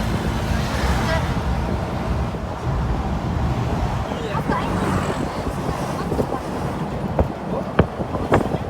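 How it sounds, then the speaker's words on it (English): A tuk-tuk ride through traffic in Thailand: a steady rumble of engine, wind and road noise with a few sharp knocks near the end, while people talk over it. "We are in another tuk-tuk."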